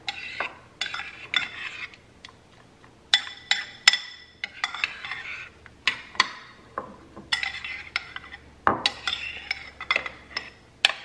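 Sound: stirring chia seed mixture together in a bowl

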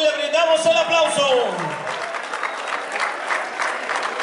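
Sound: applause

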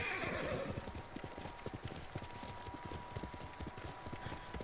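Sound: horse galloping and neighing in Ghost of Tsushima video game

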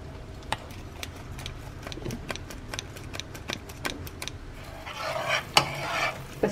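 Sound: sifting ground cashew powder through a sieve

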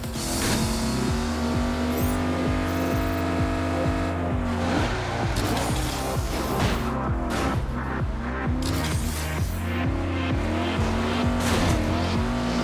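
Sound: car racing in the video game Agents of Mayhem

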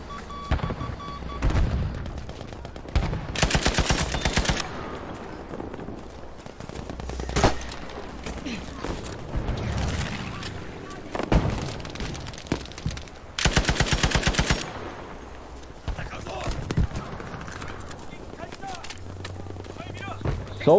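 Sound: gunfire from the video game Battlefield V

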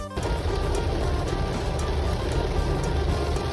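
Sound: heavy rain falling at an outdoor market

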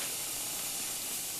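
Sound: pig's feet boiling in a pot

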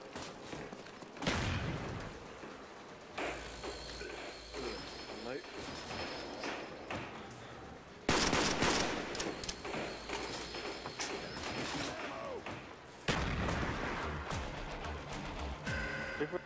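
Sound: gunfire shooting zombies in video game Black Ops Zombies

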